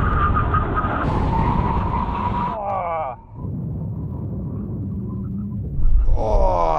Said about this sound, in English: We're going to see which car stops in the shortest distance from 100 miles an hour when we reach the line